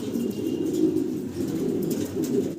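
Blue-bar Mundian fancy pigeons cooing softly at close range, a continuous low murmuring with faint rustling and no talk.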